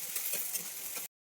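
Diced potatoes fry in oil with cumin, giving a steady, close crackling sizzle that cuts off abruptly after about a second.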